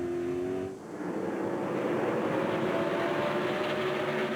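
NASCAR stock cars racing at the 2003 Virginia 500, a loud continuous engine roar of the pack with a brief dip then a swelling drone as cars pass, no voices.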